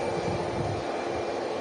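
A Boeing 737 MAX comes in to land in strong wind, its engines giving off a steady, distant jet roar mixed with wind noise, brief and continuous with no voices.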